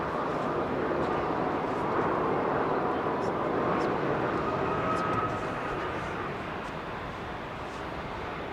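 An airplane lands at a London airport, its engines making a steady, broad roar that eases slightly toward the end, with a voice speaking faintly beneath it.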